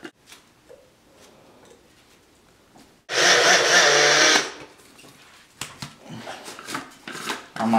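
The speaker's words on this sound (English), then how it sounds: "I'm going to blend it in the blender." A blender whirs loudly for about a second and a half while grinding whole wheat bread into crumbs for breading in a home kitchen. Quieter clicks and tapping of handling come before and after.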